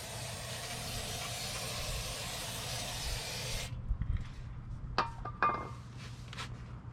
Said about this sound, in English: I'm going to be cleaning up the backing plate with some brake clean